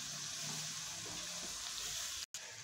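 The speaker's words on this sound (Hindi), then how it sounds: "इसको अच्छी तरह से मसाले को भून लेंगे" Spices with coriander powder and tamarind fry in a pan for green chana pulao, making a faint continuous sizzle and hiss with light stirring. A brief dropout comes near the end, and there is no talking.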